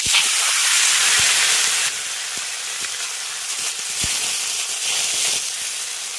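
Broad, steady sizzle of wild flower pieces hitting hot oil in a pan, with faint stirring clicks throughout, loud and close with a slight drop in intensity partway.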